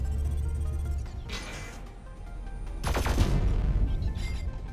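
Autocannon and grenade fire in a video game burst out in two loud bursts of rapid gunfire and blasts, heard over a low rumbling background.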